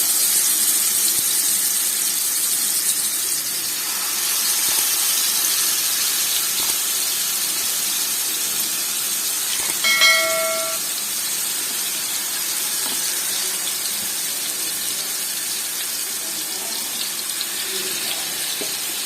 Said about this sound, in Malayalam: എണ്ണ ചൂടാകുമ്പോഴത്തേക്ക് നമുക്ക് അതിലേക്ക് നമ്മുടെ ചിക്കൻ പീസ് വെച്ച് കൊടുക്കാം.